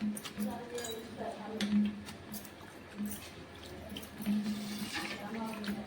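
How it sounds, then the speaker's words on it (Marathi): Fresh oregano leaves are swished and rinsed in water by hand, giving soft splashing and dripping sounds with a low hum beneath, while a person talks over the sloshing. "ही 2-3 पाण्यामध्ये आपल्याला स्वच्छ अशी धुवून घ्यायची."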